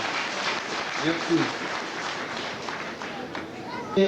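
Audience applause fills a university graduation ceremony, a steady wash of clapping from a sizable crowd that runs the whole way through, loud and close.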